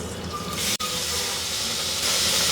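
Chilli and ginger paste frying in hot oil, a steady broadband sizzle and hiss that holds throughout with one sharp momentary dropout, no voices.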